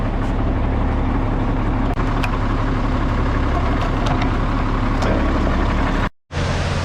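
An old road tractor's engine idles in a farm setting before being hooked to a dump trailer, a steady low diesel rumble that runs close and unbroken, cutting out briefly near the end.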